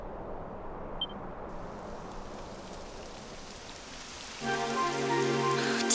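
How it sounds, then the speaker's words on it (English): Steady rain hisses down in Dragon Quest 11, a dense even patter that holds throughout, joined near the end by a sustained tonal musical chord. "It would have to go and start raining, wouldn't it?"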